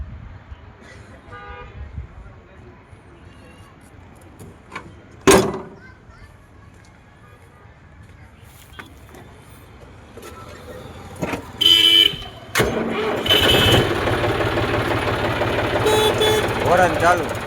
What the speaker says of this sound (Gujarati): હોરન ચાલુ